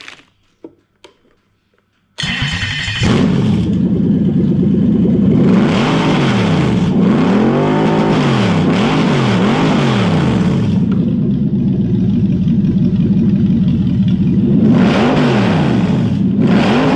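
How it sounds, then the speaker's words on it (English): Toyota 3UZ V8 engine on its stock ECU, heard close up: after a short quiet start it fires into a loud, steady run with repeated rising and falling revs throughout, and no talking. "and running the engine like it should."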